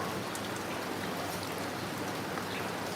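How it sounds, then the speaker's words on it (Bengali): Heavy rain falls steadily and patters on surfaces during a thunderstorm, a dense continuous hiss at moderate volume with no voices. "বৃষ্টি হচ্ছে ভালোই লাগতেছে"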